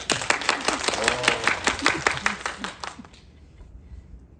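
Roughly a dozen sharp claps ring out rhythmically from a lecture audience, fairly close, then stop abruptly, leaving near silence for the last second.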